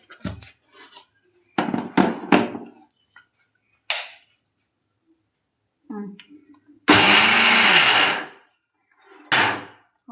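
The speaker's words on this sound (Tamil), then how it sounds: "ஆறின பிறகு மிக்சி ஜாரில் போட்டு அடிக்க வேண்டியதுதான்." A mixer grinder jar whirs through cooled chana dal and two cardamom pods in a single loud, roaring burst of about a second, amid scattered speech and kitchen clatter.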